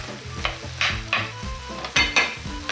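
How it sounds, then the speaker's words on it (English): Vegetables, celery and bell pepper among them, soften in a lidded pot over low heat, giving a steady close sizzle broken by several sharp scrapes and clatters of a spoon stirring against the pan. "on a low heat simmer that away so that it fries and steams and softens all the veg down"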